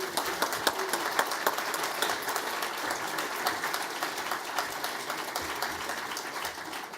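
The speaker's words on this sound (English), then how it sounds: "I would like to once again applaud Gérard Mestrallet" An audience at the 2018 Paris Europlace financial forum applauds steadily, and the sustained clapping fills the hall for several seconds with no voices over it.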